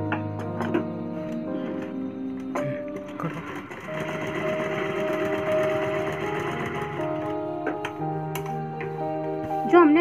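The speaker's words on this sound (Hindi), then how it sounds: "यहाँ से सिलाई लगाएंगे" A sewing machine runs steadily through the clip, stitching fabric for a child's summer crop top and wide-leg pants outfit, with a mechanical whir and faint ticking at close range and no talk.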